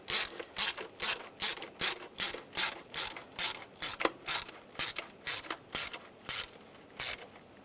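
A ratchet clicks in steady bursts while snugging the valve cover bolts on a 1999–2005 Volkswagen Jetta 1.9 TDI, about fifteen close, crisp strokes in an even rhythm with no talk.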